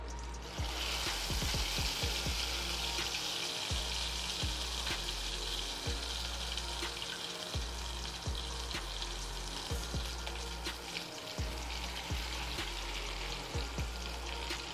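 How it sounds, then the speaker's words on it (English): Yamarita frying in hot oil, a steady loud sizzle with bubbling crackle running unbroken throughout, punctuated by low thumps from handling the pan. "Okay, so it's time to fry."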